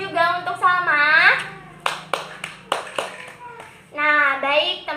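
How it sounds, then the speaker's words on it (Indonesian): Schoolchildren in a classroom clap for a classmate in a few short rhythmic bursts, with children's voices speaking and chanting before and after. "Beri tepuk tangan juga untuk Salma"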